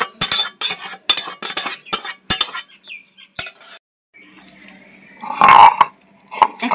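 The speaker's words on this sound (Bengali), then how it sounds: "এখন আমি শিলনোড়ায় সব বেটে নেব।" Fried black cumin and garlic are ground on a shil-nora grinding stone, giving a run of loud, close, rough scraping strokes in quick succession, then a pause and a heavier scraping clatter.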